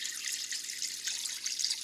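Water recirculating from a one-inch pipe and pouring back into a heated chicken watering tank, a steady close splashing trickle with no pauses.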